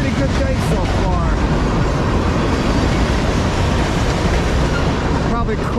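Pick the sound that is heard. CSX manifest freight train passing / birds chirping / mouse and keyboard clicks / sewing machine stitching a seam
CSX manifest freight train passing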